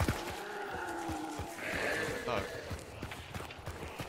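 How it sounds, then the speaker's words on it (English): In a video game, footsteps behind a wall make a regular run of sharp thuds. They sit under the players' steady talk at moderate loudness. "I hear the footsteps on the other side of the wall."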